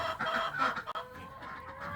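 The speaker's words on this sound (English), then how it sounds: "These chickens are telling me they're hungry." Hens on a family farm cluck steadily at close range, a busy overlapping chorus of short calls with no talking.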